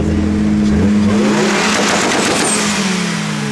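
A tuned 800+ horsepower Audi S2 engine revs hard up close, its loud exhaust droning before a burst of sharp popping and crackling from the tailpipe, then settling back.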